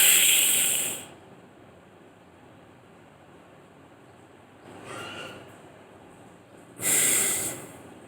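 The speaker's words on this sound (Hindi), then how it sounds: "तो ये प्राणायाम आपका हुआ शीतकारी प्राणायाम।" Two loud hissing inhalations drawn through clenched teeth in sitkari pranayama, each lasting about a second, with a fainter shorter hiss between them and quiet pauses around them; no one speaks.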